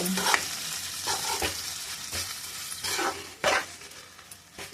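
Tomatoes frying in oil for a dhaba-style chicken curry masala, loud close sizzling with repeated stirring scrapes and spoon clinks against the pan, no talking.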